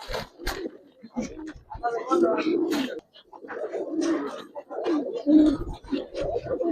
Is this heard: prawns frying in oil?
no